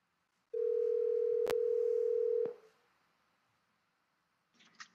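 A steady electronic tone from an Apple Watch placing a cellular phone call, holding for about two seconds with a click partway through, then fading to quiet before faint sounds return at the end.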